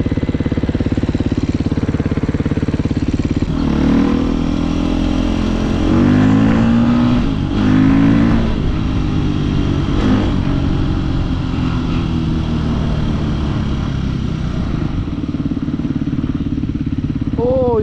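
A sport motorcycle passes and revs, its engine rising and falling in pitch in a couple of surges over a constant loud engine drone nearby.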